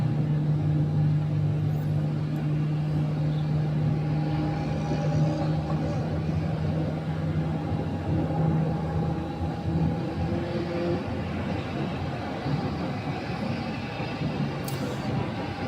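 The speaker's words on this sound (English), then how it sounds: "There you go, that engine startup sound." Airliner engines spooling up during startup at Phoenix airport, a steady broad roar with sustained tonal hum, continuous and fairly loud from start to finish.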